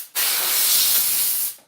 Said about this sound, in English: All right, so now I'm going to spray all this water.